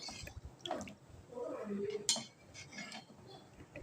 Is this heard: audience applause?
no